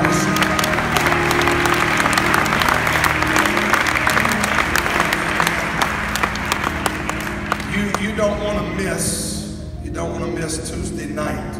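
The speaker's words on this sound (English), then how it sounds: "Give the Lord another hand clap of worship." A church congregation clapping hands together in worship, dense sustained applause with a preacher's voice speaking over it, fading toward the end.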